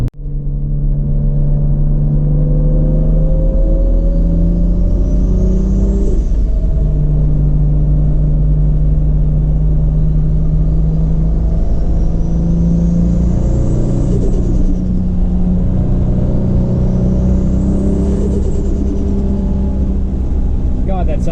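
A Toyota Supra engine idles and runs steadily with a loud, continuous low rumble, rising in a few slow revs throughout, close to the microphone with no talk.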